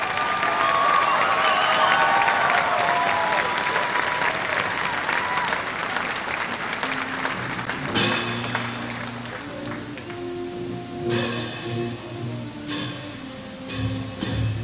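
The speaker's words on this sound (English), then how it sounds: "Give them a round of applause." A large crowd at a high school commencement for the class of 2017 gives sustained applause with some cheering, loud and continuous at first, then easing as tonal sounds come in underneath.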